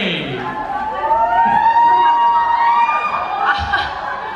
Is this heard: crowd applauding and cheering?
yes